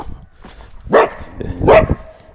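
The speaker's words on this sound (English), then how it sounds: "Coyote number one. And he's a mean doggy." A trapped coyote lets out two harsh, close barks about a second apart, with softer whines and rustling between them in an outdoor setting.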